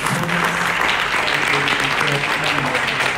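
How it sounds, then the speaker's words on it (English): An audience at a community engagement event in Tshwane claps for the Premier, producing a dense, sustained round of applause that stays loud and even throughout, with a faint murmur of voices mixed into the crowd noise. "If you can just clap your hands for our Premier"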